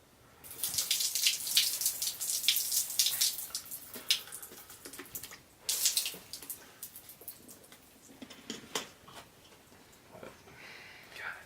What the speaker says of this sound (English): I'm gonna get my hair wet so I can kind of, you know, free it up for some styling